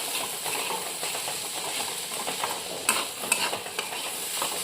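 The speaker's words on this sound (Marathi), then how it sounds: "सारखं हलवत राहायचं, नाही तर ते खोबरे खाली लागते." Grated coconut stirred and roasted in a pan for Kolhapuri misal: a steady soft scraping and faint sizzle with a few sharp clicks of the spoon against the pan, close and continuous, no voices.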